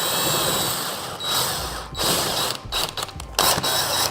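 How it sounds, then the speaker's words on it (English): Big bolts being driven into a chair backrest with a ratcheting tool, giving a steady run of mechanical clicking and whirring, close and loud, with short pauses between bursts. "we'll go ahead and put the 4 big bolts in to start"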